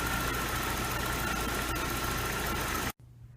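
A 1995 BMW 318i with 284,000 miles idles while warming up, a steady close rumbling hum with light vibration that cuts off abruptly near the end.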